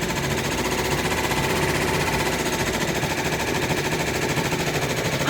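An embroidery machine stitching a Thanksgiving wall hanging design runs in a steady, rapid mechanical chatter, loud and close, continuous throughout with no voices.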